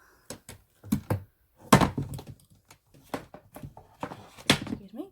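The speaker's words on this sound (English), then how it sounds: "me just saving my glue gun from falling on my desk" A hot glue gun knocks and clatters against a crafting desk in a run of sharp wooden thunks and bumps, several knocks spread across a few seconds, close and fairly loud with no talk.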